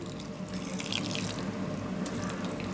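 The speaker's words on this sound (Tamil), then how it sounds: "கொஞ்சமாக தண்ணி விட்டுடலாம்." Water pours steadily for a few seconds into a turmeric and spice powder mix, a continuous splashing trickle with no voices.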